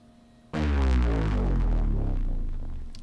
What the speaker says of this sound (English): And I fill the gap with a downer, which sounds like this.